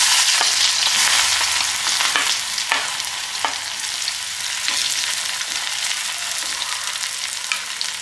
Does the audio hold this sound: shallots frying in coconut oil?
yes